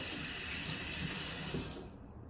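Running tap water splashes steadily as a milk frother is rinsed in a sink, a continuous close hiss that fades out near the end.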